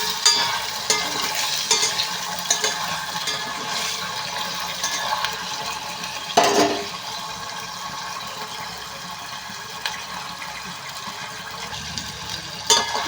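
Paneer cubes frying in a pan of hot oil give a steady, close sizzle with a soft bubbling hiss that runs throughout, broken by a few brief clinks and stirring knocks.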